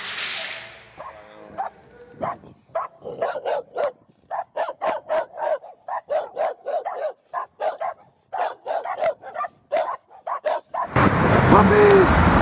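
Puppies in Mexicali, Mexico yip and bark in a rapid, irregular string of short, high barks, close by, with a burst of noise at the end.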